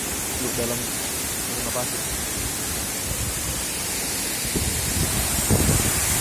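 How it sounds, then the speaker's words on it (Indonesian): Efrata waterfall on Samosir Island gives a dense, steady roar of falling water that fills the whole scene, loud and constant, while people talk faintly beneath it. "Efrata Waterfall."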